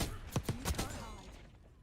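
Shotgun blasts in an online multiplayer shooter, three quick booming shots close together followed by fading echo, fairly loud, with no talk over them.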